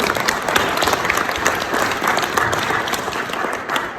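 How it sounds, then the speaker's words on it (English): A crowd at a 90th birthday celebration breaks into warm applause, steady dense clapping from many people filling the whole stretch at a fairly loud level. "I think that deserves a little round of applause too."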